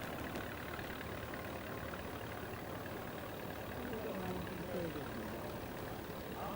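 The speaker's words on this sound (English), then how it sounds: "Another Fordson Major, but different again, because this one's been fitted with an Atlas compressor." A Fordson Major tractor fitted with an Atlas compressor runs steadily at a low idle, a continuous mid-level engine drone with a faint voice murmuring in the background.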